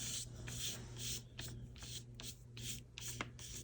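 Paper napkin overhang is trimmed from the edge of a ledger journal page with soft, quiet rubbing and scraping strokes. The strokes repeat in a quick, uneven rhythm, close up and alone.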